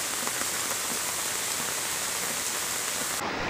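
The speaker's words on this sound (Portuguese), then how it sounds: "E tome chuva na localidade de Divineira," Steady, heavy rain pours down in Divineira, Camocim, northeastern Brazil, in a dense, continuous hiss, with drops drumming on surfaces throughout and no voices.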